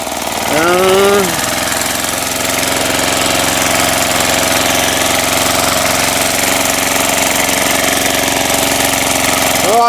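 An old walk-behind tractor tilling soil to prepare ground for planting garlic, its engine chugging loud and close in a steady knocking rhythm, with a brief whining rise near the start and voices over it.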